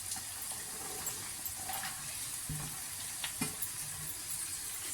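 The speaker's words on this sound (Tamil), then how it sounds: "கருவேப்பிலை போட்டுட்டு அதோட வெண்டைக்காவையும் ஆட் பண்ணிக்கலாம்." Okra and curry leaves fry in an oil-filled pan for curd rice with okra poriyal, giving a steady close sizzle with a few soft knocks and stirring scrapes.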